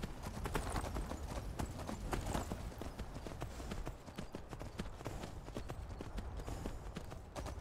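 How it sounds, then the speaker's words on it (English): Horse hooves clip-clop in a fast, steady galloping rhythm in Skyrim VR, loud and close, continuing unbroken with no talking over them. "Come on, horse. I'm not working you that hard."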